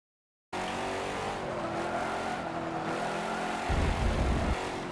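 Car engine in a racing video game, holding a loud, steady high drone through corners with a rougher surge near the end and no talk.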